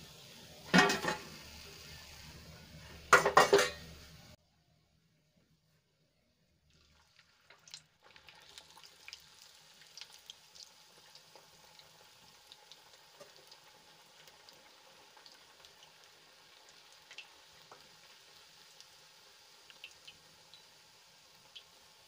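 Bajra methi puris deep frying in hot oil: a couple of loud bursts, a short silence, then a faint, steady crackle and fizz with scattered pops.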